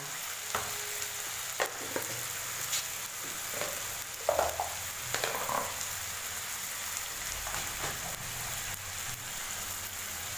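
Softened onions fry in a pan for a curry, making a steady close sizzle with scattered stirring scrapes and spoon taps, and no voices.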